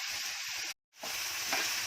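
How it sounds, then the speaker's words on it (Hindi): Small onions and chopped curry leaves sizzle in hot oil for a tempering, a steady bright hiss that cuts out briefly and then resumes just as strongly. "तेल डाली हूँ और फ्राई करने रखती हूँ"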